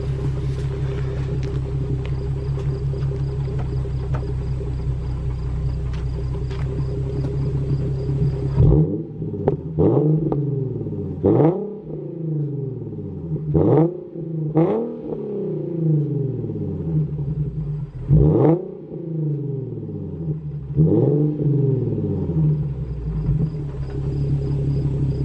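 Infiniti Q50 with a muffler delete exhaust, a steady rumbling idle followed by a series of sharp throttle blips, each rev rising loud and falling back, recorded close.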